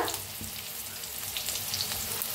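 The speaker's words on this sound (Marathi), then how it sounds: "आता जरा 1 मिनिटभर कांद्याला भाजून घेऊया आपण" Finely chopped onion fries in oil in a pan, a loud, even, close-up sizzle that holds steady throughout with no voices.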